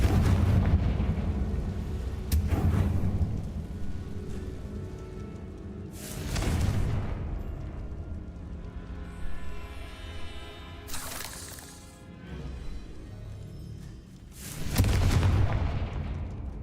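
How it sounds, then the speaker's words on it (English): In Hogwarts Legacy, the Confringo fire spell lands as a series of heavy, booming explosions, four loud blasts spaced several seconds apart, each followed by a rumbling fiery tail. "Confringo!"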